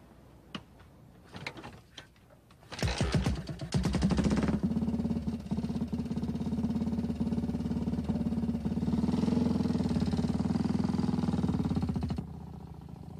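A BMW motorcycle engine starts with a few sputters, then idles steadily and loudly for several seconds before cutting back slightly at the end.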